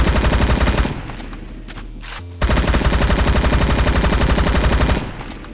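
An assault rifle fires in the online shooter Bad Business, two long rapid automatic bursts separated by a brief lull, loud and close, with a short quieter tail at the end.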